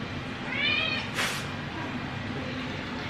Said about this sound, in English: Every time I stand in the kitchen, he meows uncontrollably.